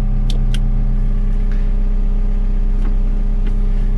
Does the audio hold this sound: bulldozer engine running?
yes